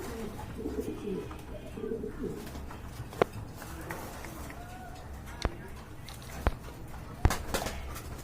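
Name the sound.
pigeons cooing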